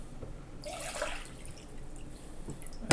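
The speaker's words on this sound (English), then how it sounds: "I'm going to go ahead and pour the water in the bowl." Water pours into a bowl in a short, gentle splashing burst that fades into faint trickles and drips, ending with a sharp click.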